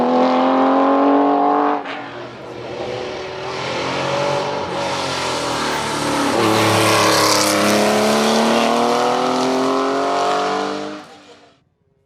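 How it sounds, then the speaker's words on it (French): A Porsche 911 SC historic race car climbs a hill-climb course, its flat-six engine loud and close, rising through the gears with shifts and revving hard before fading away as it passes and recedes. "Jacques Hudeviller et sa Porsche 911 SC"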